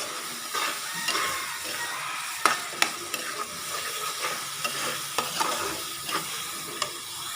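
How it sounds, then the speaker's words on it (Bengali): Fish with vegetables and onions sizzles and fries in a pan while a spoon scrapes and stirs, sharp clinks of utensil on metal punctuating a steady crackling hiss. "মাছগুলি এই সবজি পেঁয়াজ নিয়ে কষাইতেছি, ভাজতেছি"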